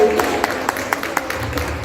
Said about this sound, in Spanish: Vamos a darle un aplauso aquí a nuestra compañera Dulce, maestra